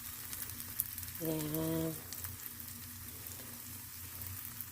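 Pancake batter fries in a pan with a faint, steady sizzle close by, while a voice speaks briefly and a short tonal hum rises over it midway.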